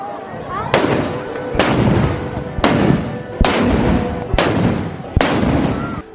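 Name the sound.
cannons firing at Dananon, Bago City celebration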